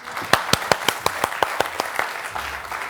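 A studio audience at a comedy game show claps in quick, evenly spaced, sharp beats close by, tapering off toward the end.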